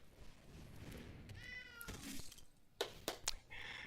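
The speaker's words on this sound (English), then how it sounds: "Here come the kitty cats." Cat meows from cat cards in the digital card game Magic: The Gathering Arena, several short meows in sequence alongside game effect sounds and soft thuds, quiet overall.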